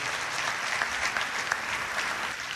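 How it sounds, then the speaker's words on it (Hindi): An audience applauds a poem at a poetry performance in Pune, with dense, steady clapping from many hands that stays loud and continuous throughout. "एक बढ़िया विचार की कविता के लिए जोरदार तालियां होनी चाहिए।"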